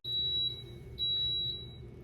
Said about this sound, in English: It's beeping. Let's see what's going on in the waffle maker.